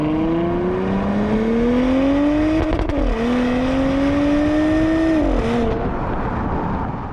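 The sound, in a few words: 2020 Porsche Cayenne Coupe sports exhaust note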